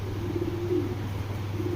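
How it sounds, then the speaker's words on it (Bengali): A green-necked pair of Giribaz pigeons gives a low, soft cooing that rises and falls in a steady burble, close by, over a constant background hum, with no talking. "ভাই কবুতর সবুজ গলা একটা পেয়ার"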